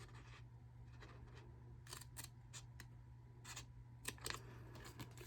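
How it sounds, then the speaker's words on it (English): Scissors make a series of quiet, crisp snips through scored paper cardstock for a hot cocoa mini folio card, short cuts in irregular bursts over a faint hum. "So I'm just going to take my scissors"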